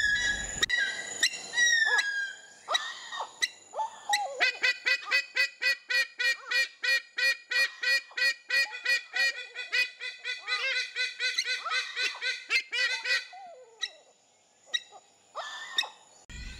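Calls of a Philippine eagle at a conservation centre, a rapid run of about twenty evenly spaced, nasal honking notes, loud and near, with a few scattered calls before and after.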